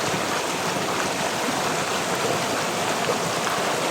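A creek flows steadily past large rocks outdoors, a continuous broadband rush of water holding even and fairly loud throughout, with no voices.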